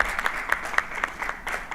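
Audience members at the opening of a business law conference clap in a short burst, a scattered but steady patter of hands in a hall, with a few sharper claps standing out.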